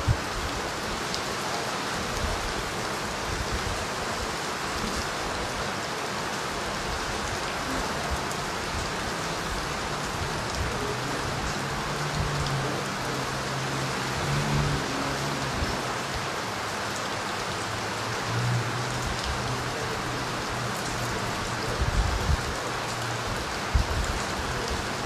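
Steady rain falls outdoors as a continuous, even hiss for the whole stretch, with occasional faint low rumbles and bumps beneath it and no talking.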